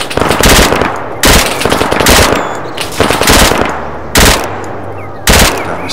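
Automatic gunfire in ArmA 3 on winter Chernarus, loud close bursts of rapid shots separated by short pauses, five or six bursts in a row.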